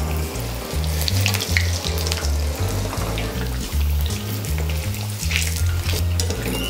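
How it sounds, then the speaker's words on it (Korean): Battered food deep-fries in hot oil with a constant crackling sizzle, over a low, repeating tonal pattern underneath. "튀겨보겠습니다"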